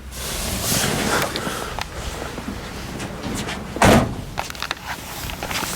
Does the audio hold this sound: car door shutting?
yes